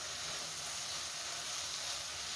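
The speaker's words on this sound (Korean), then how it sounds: "이렇게 해서 물기가 없을 때까지 바짝 볶아주세요." Macaroni and cheese mixture stir-frying dry in a pan gives a steady, even sizzling hiss, close and continuous, with no voices.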